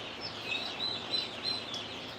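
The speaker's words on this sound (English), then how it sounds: "What bird makes that unique noise? That is actually a quail." Short, high chirping quail calls repeat several times over a steady hiss of outdoor background noise, with no voices.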